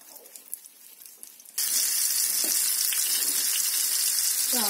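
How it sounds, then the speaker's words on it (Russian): Breaded cutlets sizzle in an uncovered pan over low heat, a loud, steady frying hiss that bursts in abruptly and continues without a break, with a faint clink near the end. "Без крышки котлеты жарим"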